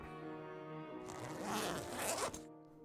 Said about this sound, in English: I unfastened my backpack.